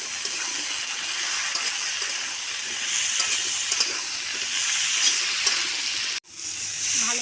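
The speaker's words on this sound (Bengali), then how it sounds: "ভালো করে ভেজে নেব।" Steady loud sizzle of kohlrabi frying in a hot pan, a dense hiss running throughout, broken by one abrupt momentary drop near the end before the sizzling resumes.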